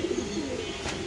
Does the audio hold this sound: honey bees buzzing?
no